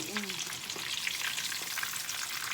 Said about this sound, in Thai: พอมันเหลืองแล้วมันจะสุกค่ะพี่น้องอันนี้ปลาอันนี้ทอด